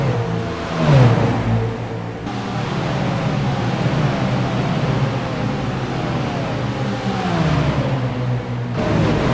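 Stock cars race around Charlotte Speedway in the iRacing simulator, their loud, continuous engine drone rising and falling in pitch as cars accelerate and pass.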